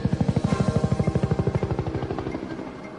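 A combat helicopter flies over the Nevada desert near Area 51, its rotor thumping in a fast, loud, even beat that gradually softens and fades as it moves away.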